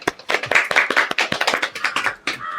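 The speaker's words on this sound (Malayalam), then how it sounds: "എല്ലാവർക്കും നല്ലൊരു ക്ലാപ്പ്" Hands clapping in a group at an online study class, a quick run of sharp, bright claps packed densely and continuing throughout at close range.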